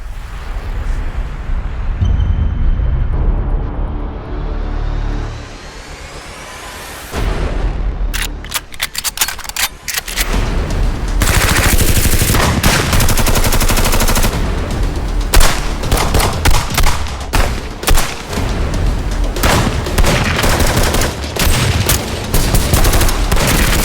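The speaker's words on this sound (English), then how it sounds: "This is our gun pack, but now processed by Rob Krekel to sound freaking massive" Heavily processed gunfire booms and rapid bursts hit hard and loud, starting with a rising whoosh, then dense volleys and huge reverberant blasts.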